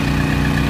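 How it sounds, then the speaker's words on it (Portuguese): Idling engine of a Metal Plus Ursus crop sprayer with a four-wheel-drive 85 engine, used for spraying wheat, runs as a steady, loud, continuous drone throughout with no voices. "nossa máquina de passar veneno, nosso pulverizador Metal Plus da Urso"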